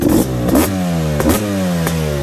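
A tuned 2023 GasGas 500 BRC dirt bike engine revs up sharply three times, each burst climbing and then dropping back to a steady, throaty idle. Close and loud.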